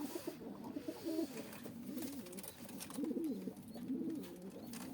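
Game pigeons kept in a coop in Mardin coo in repeated low, soft phrases, several birds overlapping at a steady rhythm, at moderate distance over a constant hiss of background noise, with no talk.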